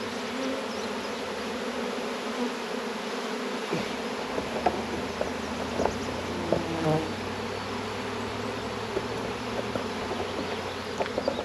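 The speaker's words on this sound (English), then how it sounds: "don't freak out when bees are on you or flying around you or being interested in" Honey bees buzz and fly around a beehive while a swarmy nuc is split into four hives, a steady close drone with individual bees zipping past the listener and light handling knocks.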